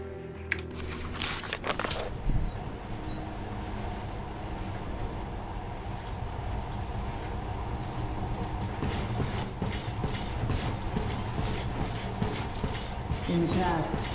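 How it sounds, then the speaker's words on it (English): Monorail train running in the video game Metro: Last Light Redux, a continuous rumbling roll with rhythmic clacking and metallic rattle, steady and close for the whole stretch after a brief clatter at the start. "In the past, trains were ordinary things, but now, this monorail seems magic, doesn't it?"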